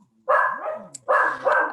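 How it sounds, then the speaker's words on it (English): Two short, sharp dog barks close by, separated by a brief pause, in an otherwise quiet indoor room. "I'm sorry if my dogs are barking"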